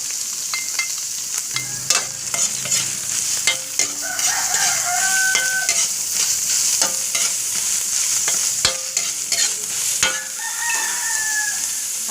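Chicken pieces sizzling and frying steadily in a pan, with scattered sharp clinks and scrapes of a utensil stirring throughout.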